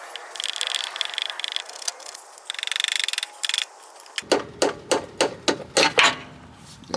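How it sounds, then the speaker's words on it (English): A big screwdriver is set behind a Honda CV axle (1992–2000 model) and tapped, first with light rattling scrapes and then a string of about eight sharp, loud metallic knocks at a steady pace. "I just got a big screwdriver, put it behind there, give it a few taps."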